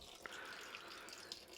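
Coolant drained from a Suzuki DRZ400SM motorcycle pours in a steady, faint trickling stream into a bucket, with small splashy plinks over the continuous flow and no voices.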